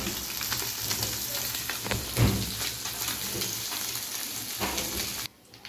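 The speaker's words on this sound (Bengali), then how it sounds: "তো তেলটা গরম হয়ে গেছে, আমি পাঁচফোড়ন দিয়ে দিলাম।" Panch phoron spices crackle and sizzle in hot oil for a cauliflower curry, a steady loud frying hiss with a few sharper pops, cutting off abruptly near the end.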